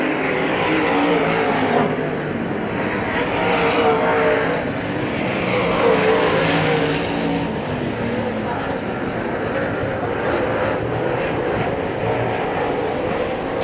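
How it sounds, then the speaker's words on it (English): Late model sportsman race cars roaring around Hagerstown Speedway, a loud, continuous engine drone that swells and fades as the field passes, with crowd and track ambience beneath. "Raley was making a bid for Palmer, now the gap has opened up a little bit more here at lap number 6"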